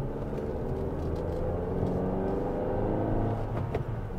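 SUV in third gear climbing a steep hill road, its engine droning steadily and loud throughout, with a low rumbling whir and slight revving toward the end.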